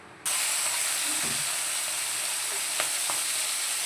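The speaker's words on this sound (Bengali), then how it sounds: "মাছটা ভাজা বসিয়ে দিলাম।" Fish rubbed with salt and turmeric drops into hot oil, and a loud, close, continuous sizzle bursts out after a moment of quiet, holding steady with a couple of faint ticks.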